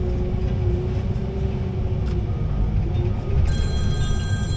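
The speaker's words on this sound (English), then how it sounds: "Oh, phone's ringing." A phone rings with a steady electronic tone over a loud, constant rumble of concrete crushing and screening machinery in the background.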